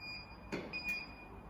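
A CraftPro 15x15 heat press for T-shirt printing gives a faint, thin, steady electronic beep tone that holds across the clip, broken by a couple of soft mechanical clicks, with no talk.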